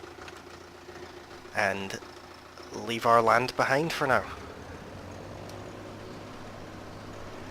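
Tractor engine in Farming Simulator 17: a steady low idling drone runs throughout, fairly quiet and constant, while someone talks briefly over it.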